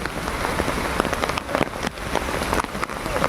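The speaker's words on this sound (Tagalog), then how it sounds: "Sobrang lakas ng ulan, hindi talaga tumigil." Heavy rain pours down steadily and close by, a dense continuous wash of drops with no break and no voices.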